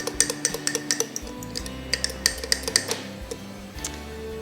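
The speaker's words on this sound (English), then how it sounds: "You'll use a fork or a spoon to mix your thickener into the food for approximately 15 seconds" Metal fork scraping and clinking against a bowl while stirring thickener into pureed food, a quick series of close, light taps and scrapes with a steady rhythm.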